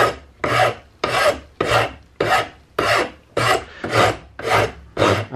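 A rough flat file rasps over epoxy on a brass buttplate in nine even, rhythmic strokes, each a gritty scrape close up with brief pauses between, no talking.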